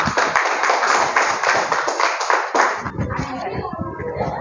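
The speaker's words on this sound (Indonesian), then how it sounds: "silakan kasih aplaus untuk kelompok 2" A classroom claps for group 2 after their presentation, with dense, close applause from many hands that fades into student chatter.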